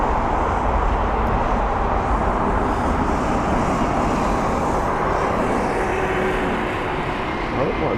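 A Scandinavian Airlines A320 taxis at London Heathrow toward runway 27 left, producing a steady loud jet engine rumble and roar that fills the whole stretch, with a voice talking over it.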